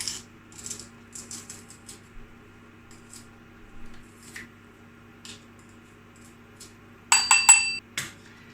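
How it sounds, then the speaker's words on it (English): Peeled garlic crushed for a vegan quiche: faint scattered clicks and taps, then a short cluster of louder metallic clinks and crunches near the end in a quiet kitchen. "with the garlic, I've peeled it, and now I'm gonna crush it"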